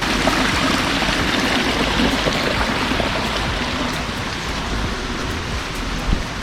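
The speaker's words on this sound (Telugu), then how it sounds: "వర్షం పడుతూనే ఉంటుంది కదా, సో వాటర్ ఫ్లో అవుతూనే ఉంటాయి ఇక్కడ" Dense, steady monsoon rainfall patters on surfaces while water runs and trickles nearby on a trek trail in Maharashtra, continuous with no voices.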